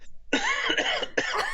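A person breaks into a harsh, close coughing fit, with several rapid raspy coughs run together over about a second and a brief catch between bursts.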